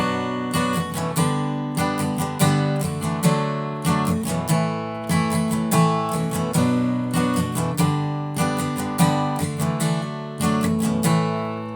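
Acoustic guitar strums through the chord progression of a song in a driving down-up pattern with little embellishments, bright and close, steady rhythmic bursts with no talking.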